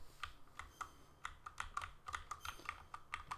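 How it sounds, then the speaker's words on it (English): Keys on a computer keyboard are pressed one at a time in a quiet, uneven rhythm, with roughly fifteen soft clicks over a faint low hum. "Also, I am using the keyboard."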